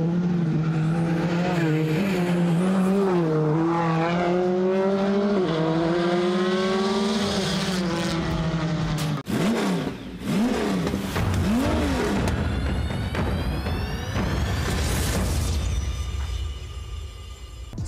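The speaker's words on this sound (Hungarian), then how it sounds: "amikor itt a közeledbe itt elpukkan a gázlevételnél a ALS, akkor lesz olyan hangja" A race car with an anti-lag system passes close on a track, its engine roaring loudly and rising in pitch, then lifting off the throttle into sharp popping and crackling bursts before pulling away, with tire noise underneath.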